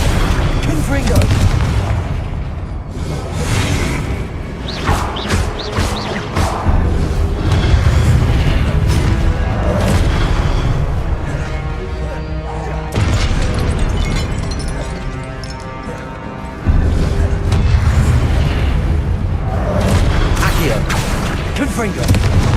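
Confringo blasting spells in Hogwarts Legacy go off again and again as booming explosions, dense and loud throughout, with fiery crackle and rumbling debris. A voice talks under the blasts.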